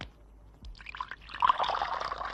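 Hot water is poured from a kettle or flask into a cup, a brief close trickle that builds into a steady splashing stream after a soft clink.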